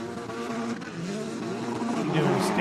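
Race cars weaving behind a pace car at Canadian Tire Motorsport Park to build heat in tires and brakes: a steady, fairly loud blend of engine drone with shifting pitch, some tire noise and a voice partly over it.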